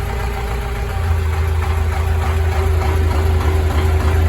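A YuMZ-6AKL tractor engine running at a steady idle, a loud continuous low rumble with a constant hum close by.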